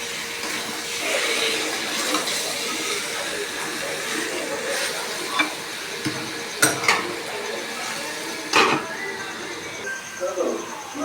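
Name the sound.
meat and spices being sautéed in a pan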